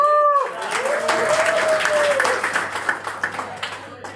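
An audience at a speaker's programme in Ahmedabad claps in a sustained round of applause that gradually thins out. A voice is heard briefly at the start.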